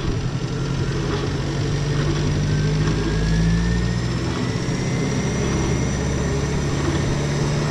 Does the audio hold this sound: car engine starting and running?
yes